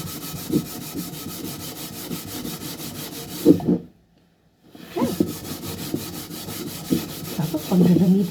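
A cooking pot or pan is scrubbed by hand with bath soap to polish it, giving a steady rough rubbing and scraping close up, with a short silent gap in the middle as the scrubbing pauses.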